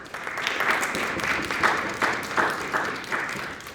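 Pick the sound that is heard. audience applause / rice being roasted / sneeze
audience applause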